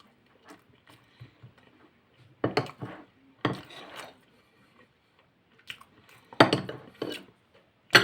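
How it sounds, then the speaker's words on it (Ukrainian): A knife clinks and scrapes against a plate while cutting a slice of cake, in short scattered taps with a few louder cuts, close by and without speech. "Добре, я нарізаю собі ще один кусочок."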